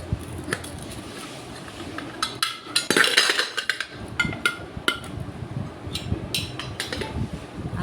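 A metal lid goes onto a cooking pot in a home kitchen making keema gravy, with sharp clinks and clatters of metal on metal over a low background hum, close and moderately loud.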